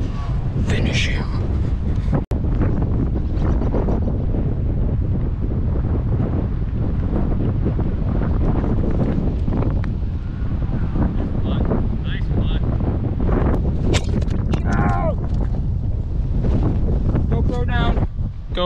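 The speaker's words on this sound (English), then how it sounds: "This wind's just rare." Strong wind gusting across a golf course, a loud, rumbling buffet of wind noise against the microphone throughout, with people talking intermittently over it.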